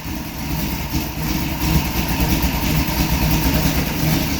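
A 1964 Dodge Dart engine runs steadily at a low rumble, close and fairly loud, with only mild swells of throttle rather than sharp revs, and no talk over it.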